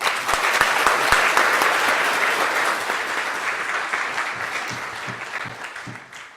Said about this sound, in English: Can I please have a round of applause?